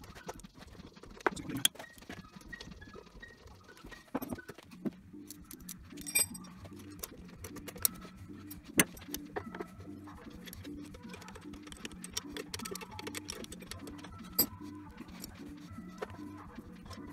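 Metal tools clink and tap softly while a carburetor is fitted onto a 1981 Honda ATC 70, with scattered sharp ticks and light jangles over a quiet, steady background.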